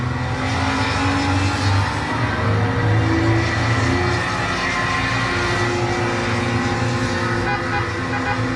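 Car with a Toyota 2JZ engine accelerating on the Nürburgring during a tourist drive, a loud continuous engine roar heard from nearby with rising pitch across several seconds and no speech.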